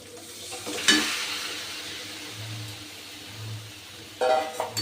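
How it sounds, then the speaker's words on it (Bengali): Washed chicken goes into a pan of spiced masala, bringing a bright burst of sizzle, then a steady, softer frying hiss and a second loud flare of sizzling and clatter near the end. "এবার দিয়ে দিচ্ছি আমি ধুয়ে রাখা চিকেন"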